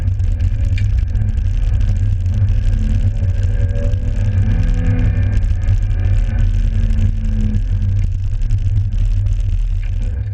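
A BMW 2002 rally car on a road rally route, its engine a loud, steady low drone held close throughout with slight pitch shifts, no voices.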